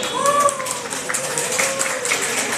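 An audience claps at a shop branch opening, a moderate, steady patter of many hands with a voice rising over it part of the way through.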